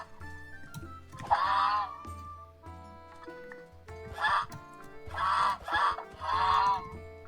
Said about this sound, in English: my guess is that these geese might be hostile